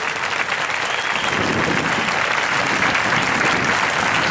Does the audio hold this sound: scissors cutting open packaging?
no